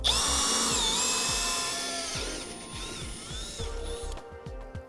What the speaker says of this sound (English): I'm going to go ahead and continue drilling all the way through the frame